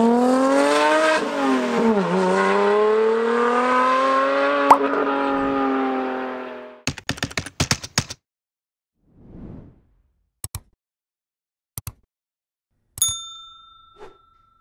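Lotus car accelerating hard, a loud rising engine rev that sweeps up and fades away, followed by a series of sharp clicks, a soft whoosh and a few short electronic ding tones.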